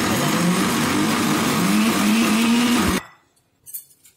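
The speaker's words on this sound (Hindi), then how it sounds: "एक बार मिक्सी बंद करके देख लेंगे दाल सही से पिसी है कि नहीं पिसी।" A kitchen mixer grinder grinding lentils whirs loudly and steadily for about three seconds, then switches off abruptly, leaving near silence and a faint clatter.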